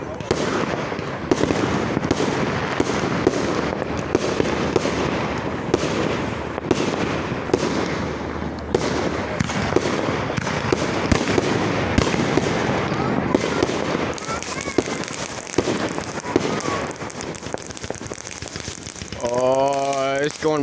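Fourth of July fireworks bursting close by, a dense barrage of cracks and booms crackling on and off for the whole stretch, with rapid firecracker-like popping and a whistling rocket rising near the end.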